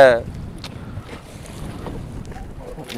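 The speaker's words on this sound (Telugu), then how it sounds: "చాలా గాలి కూడా ఉంది ఇప్పుడు." Strong wind gusting over open water from a fishing boat out at sea at night, a steady broadband rush with buffeting on the microphone, loudest at the start and then holding at a moderate level.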